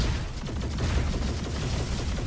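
Dual Hellions weapon fires continuously in the video game Roboquest, a dense rapid barrage of close, loud shots with no pause across the whole stretch.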